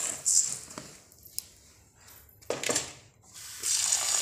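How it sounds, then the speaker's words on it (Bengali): Rice and grains being washed by hand in water in a bowl, with intermittent sloshing and splashing bursts and running water between quieter pauses. "যতক্ষণ না ময়লাটা যায় পরিষ্কার করে ধুয়ে নিতে হবে"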